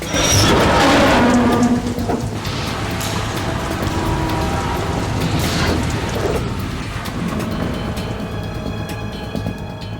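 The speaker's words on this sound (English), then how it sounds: "It stopped raining." Heavy rain and rolling thunder from the video game Metal Gear Solid 2, set on a tanker: dense, loud, constant downpour hiss with booming thunder swells near the start and again midway.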